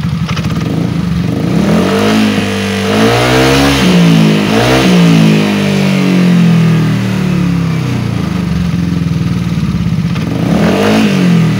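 A car engine revving hard in repeated rises and falls while coolant spurts from the radiator, loud and close, heard on its own with no talking.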